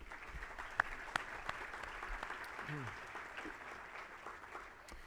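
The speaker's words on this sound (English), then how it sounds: "if we could have another round of applause for all of our speakers" Conference audience applauding the speakers at a business expo keynote, a steady patter of clapping from a sizable crowd filling the room for several seconds, with a voice speaking over it.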